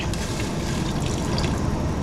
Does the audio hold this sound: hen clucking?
no